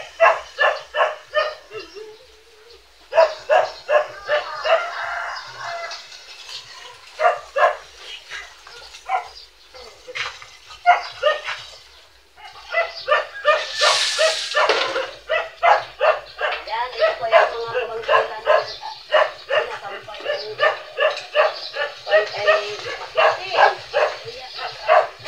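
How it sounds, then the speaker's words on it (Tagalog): Several dogs bark repeatedly in rapid bursts close by, with yips and whimpers mixed in, continuing on and off through the whole stretch with brief pauses. "pasensya na lang kayo sa mga ingay ng mga aso"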